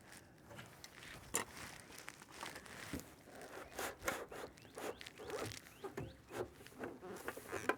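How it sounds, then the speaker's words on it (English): Metal roof trim is crimped and bent by hand, giving faint, close scraping and crinkling with a scatter of small sharp clicks and taps at an irregular pace. "I'm gonna crimp this and bend it down"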